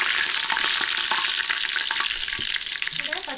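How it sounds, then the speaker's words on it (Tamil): Whole spices such as cinnamon hit hot oil in a pan for chicken curry, a loud continuous close sizzle with a few crackles and light stirring scrapes, no talking. "எண்ணெய் சூடாயிட்டு பட்டை வகையெல்லாம் சேர்த்துக்கலாம்"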